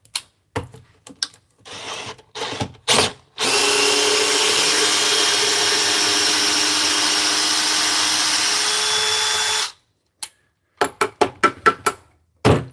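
A DeWalt cordless drill runs continuously for about six seconds, drilling all the way through, loud and close, framed by bursts of sharp clicks and knocks before and after.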